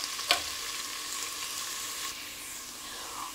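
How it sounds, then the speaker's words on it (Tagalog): Ginger sizzles steadily in a hot pan, a continuous crackling fry with a brief stirring clatter near the start. "Lulutuin ko lang tong ginger"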